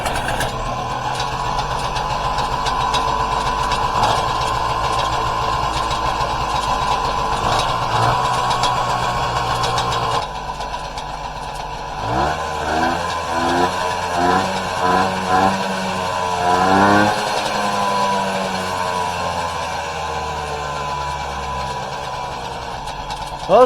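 A small 1970s moped engine idles steadily, its putter shifting in pitch and rhythm partway through as it settles and revs slightly.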